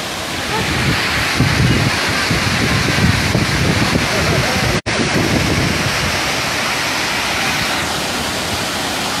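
Shaki waterfall in Armenia roars as a steady, loud broadband rush of falling water, continuous and close throughout, with a brief dropout midway.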